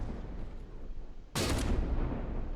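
A single heavy ship's gun fires in a naval video game, a sudden loud blast that cuts in abruptly and then rolls on as a sustained rumbling boom over low background noise.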